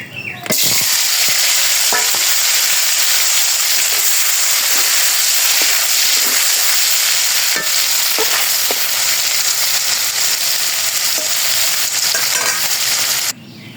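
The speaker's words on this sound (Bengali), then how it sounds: "তো কড়াইতে তেল দিলাম, এখন যে পনিরগুলো ভেজে নেব।" Paneer pieces frying in hot oil in a wok, a steady loud sizzle running throughout with occasional stirring clinks and scrapes, ending abruptly.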